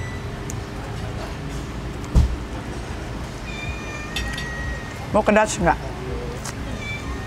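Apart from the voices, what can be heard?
cat meowing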